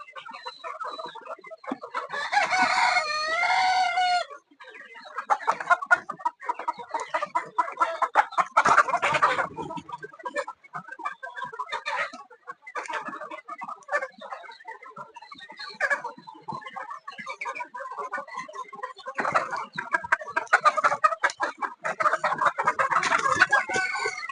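Chickens cluck and squawk continuously at close range, with a rooster crowing loudly near the start and scattered rustling throughout.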